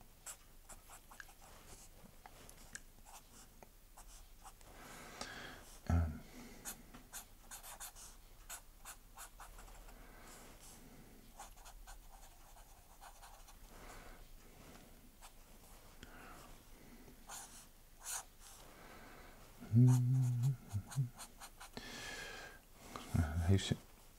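Steady scratching of a pencil moving across paper, close and continuous with a few louder strokes and brief rustles; no talking.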